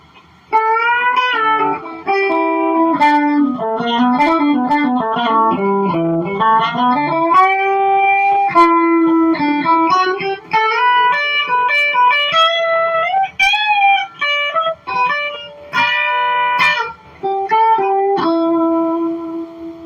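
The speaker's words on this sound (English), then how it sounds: "Let's see if this might be enough distortion." Electric guitar on its bridge pickup, played through an amplifier with distortion, plays melodic single-note lines and sustained notes at a steady, fairly loud level for about twenty seconds with brief gaps, no voice.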